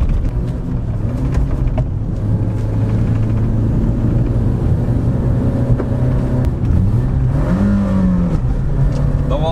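A car engine drones steadily and loud, its pitch rising and falling as gears are shifted without using the clutch, heard from inside the car.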